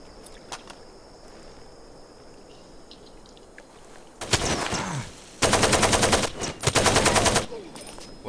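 Assault rifle gunfire in the video game Far Cry 2, with loud rapid automatic bursts rattling close by after a quieter stretch, two long sustained volleys separated by short pauses.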